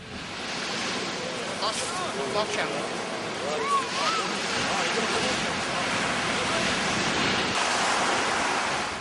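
Sea waves wash onto the shore at Jeju, Korea, a steady broad roar of surf with wind noise that stays loud for the whole stretch. Faint voices can be heard beneath it.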